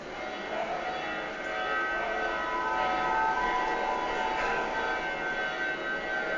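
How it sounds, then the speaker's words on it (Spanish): A bell rings in a faint, steady wash of tones that blend together, heard from a distance against a constant background hum. "Tocaron campana."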